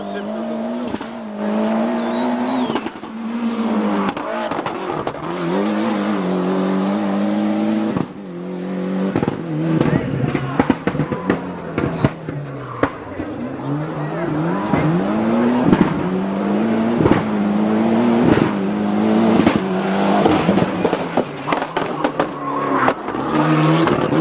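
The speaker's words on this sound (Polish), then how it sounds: "Z numerem 3 Fordem Escortem Cosworthem jadą Austriacy Kurt Göttlicher i Johann Wallner." Ford Escort Cosworth rally car at the 1996 Rajd Polski revving and accelerating hard with rising, falling engine sweeps and sharp gear changes, loud and close, under steady commentary.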